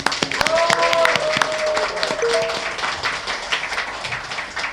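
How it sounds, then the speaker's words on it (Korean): A studio audience claps to open a Korean current-affairs talk show, a burst of hand clapping with voices over it, tapering toward the end. "여러분의 힘찬 박수와 함께 시작하겠습니다."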